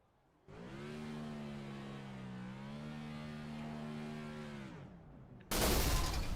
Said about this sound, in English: I think he's going to burn it down to the engine blows.